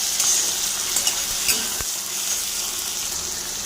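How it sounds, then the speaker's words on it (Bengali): Tomato sautéed with onions in a pan, a continuous bright sizzle with scraping stir strokes and a couple of sharp utensil knocks, close and fairly loud. "এবার টমেটোটা দিয়ে দিলাম, ভালো করে কষিয়ে নেব পেঁয়াজের সাথে।"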